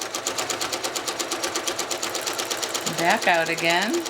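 A sewing machine free-motion quilting a cloud design runs at a steady, fast stitching rhythm throughout, close and prominent, while someone speaks briefly over it toward the end.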